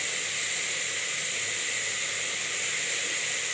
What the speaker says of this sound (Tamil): நல்லா இது வதங்கட்டும் இந்த மாதிரி போட்டால் தான் இதில் வந்து நல்லா வதங்கும்